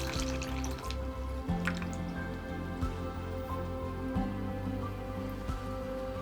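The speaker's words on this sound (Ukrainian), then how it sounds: "Коли картопля нарізана, наливаю в кастрюлю воду та залишаю варитись до повної готовності." Water is poured into a pot of cut potatoes, a close stream of splashing and dripping over a steady low musical background, with no talking.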